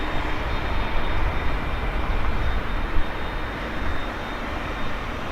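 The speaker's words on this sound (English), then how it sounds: "it's always the MD-11s that seem to take off really, really quickly" An MD-11 jet airliner takes off at Portland airport, giving a loud, steady, broadband engine roar that fills the whole clip without a pause. A thin high whine runs through it, and no voices are heard.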